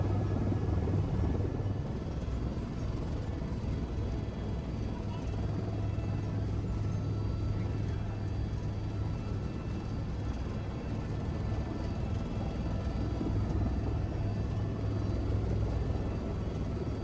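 A helicopter in flight on a sightseeing ride, heard from inside the cabin as a steady, loud engine and rotor rumble throughout, with people talking over it.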